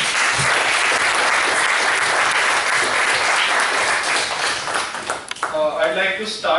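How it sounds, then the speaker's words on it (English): Audience applause after a talk and question session, steady dense clapping that thins out toward the end with a few scattered claps and brief voices. "Can we have a bigger round of applause once again?"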